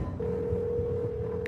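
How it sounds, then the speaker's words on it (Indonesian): A telephone sounds a single steady dialing tone as a call is placed, followed by a brief higher beep at the end, heard clearly and alone in a quiet room. "Saya akan telepon Tuan Sterling sekarang"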